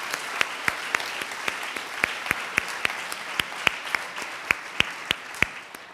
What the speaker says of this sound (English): if we could just give a big round of applause to the incredible team who's brought today together.